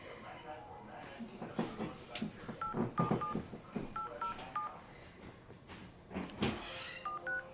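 Touch-tone dialing beeps sound from a phone as a call is placed to activate an iPhone, short tones in quick clusters under a busy background of voices and clatter.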